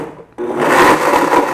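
A blender pulses cucumber and mint for lemonade, starting after a short quiet moment with a loud whirring grind that runs for over a second before cutting off.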